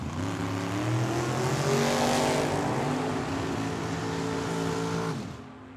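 Drag racing cars, including a purple Chevelle, scream down the Tucson Dragway strip, engines rising in pitch as they accelerate hard, loud and close before the roar drops away at the end.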